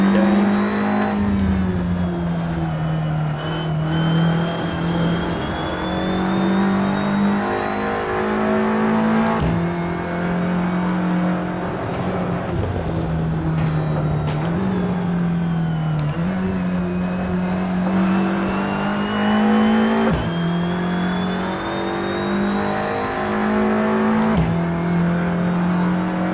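A race car engine revs continuously in a racing video game, droning steadily at high pitch with repeated gear-shift dips and surges. The loud, close sound carries on with no talk.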